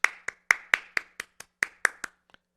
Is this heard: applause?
yes